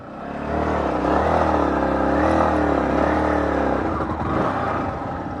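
An off-road vehicle on a steep climb near Munnar and Vattavada, its engine revving loud and strained while stuck, holding a high sustained roar for several seconds before easing slightly.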